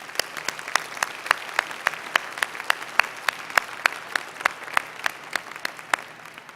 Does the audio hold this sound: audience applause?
yes